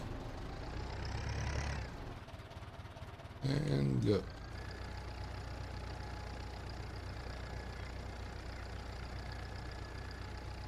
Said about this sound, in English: Sounded weird for a second, the tractor.